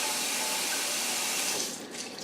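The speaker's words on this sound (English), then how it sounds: "I'm going to give it a quick rinse, again with tap water." Running tap water splashes steadily with a broad hiss into a glass jug being rinsed, shifting slightly near the end as the flow changes.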